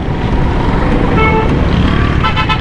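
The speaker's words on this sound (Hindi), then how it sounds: "यहाँ से ट्रैफिक आ रही है।" Busy road traffic rumbles past near a bridge on a broken road at Teen Hatti, Martin Quarters, a loud continuous wash of engines with a few horn toots near the end.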